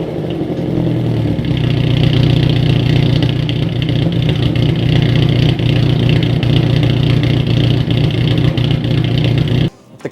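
A loud, raspy exhaust from a Mazda NC Miata with a delete pipe drones and rumbles steadily at close range for several seconds, then cuts off abruptly near the end.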